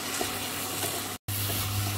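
Chopped tomato and onions sauté in a pan for a Kerala-style fish pollichathu, giving a steady, close sizzle of frying that stops for a brief moment before resuming.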